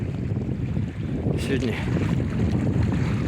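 Wind gusting steadily over the Kama river around a small boat, a broad low roar with microphone buffeting throughout, a brief spoken word near the start.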